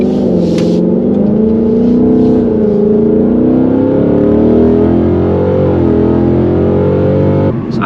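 A tuned Ford Mustang S650 accelerates hard in a steady, loud pull, its engine note climbing and shifting through rising RPM for several seconds before easing off near the end.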